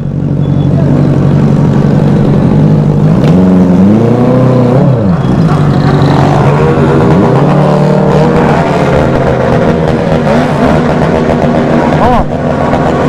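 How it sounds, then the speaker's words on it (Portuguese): Honda Hornet and Yamaha MT-07 motorcycle engines rev and drone loudly throughout, pitch rising and falling as they accelerate, with voices talking over the steady mechanical roar. "As motos aí, ó."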